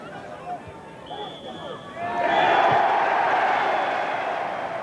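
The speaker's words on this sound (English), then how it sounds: "The loud enthusiastic cheer of the Altrincham fans tells its own tale." Altrincham football fans break into a loud, sustained cheer after a goal against Barnet in a 1991 Conference match, a crowd roar swelling midway and holding under a commentator's voice.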